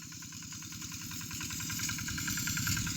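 An engine-driven water pump runs steadily outdoors with a continuous, close, throbbing mechanical drone. Its even pulsing rhythm grows slightly louder toward the end, with no voices over it.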